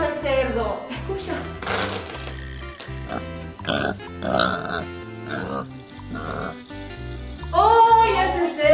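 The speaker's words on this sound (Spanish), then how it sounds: "Escuchemos cómo hace el cerdo." A farm pig oinks and grunts in short repeated bursts, set against a bouncy rhythmic musical backing with voices present.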